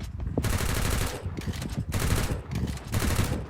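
Rapid bursts of automatic gunfire in the mobile battle game Free Fire, a 4v4 ranked match, firing in dense loud volleys with short gaps between them and no talking.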